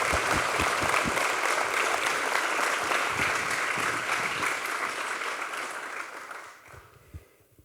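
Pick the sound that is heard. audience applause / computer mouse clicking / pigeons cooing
audience applause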